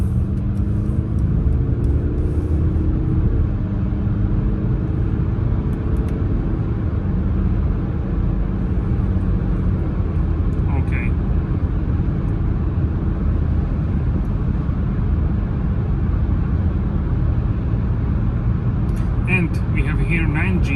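A 2021 Mercedes GLC 300 Coupe with a 9-speed automatic heard from inside the cabin as it accelerates, a steady low engine and road drone that holds loud throughout while someone talks over it.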